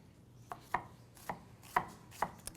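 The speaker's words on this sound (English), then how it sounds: "You want to cut it fairly small, about 1/4 inch." Onion being chopped on a cutting board with a knife into small quarter-inch pieces, six or so separate crisp thunks spaced unevenly, close and clear against a quiet room.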